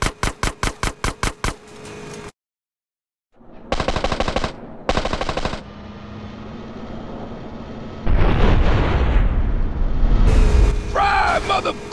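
Gunfire at bikers in the GTA San Andreas mission Just Business: loud rapid machine-gun bursts, then booming blasts and engine roar as the chase goes on, with game characters shouting over it.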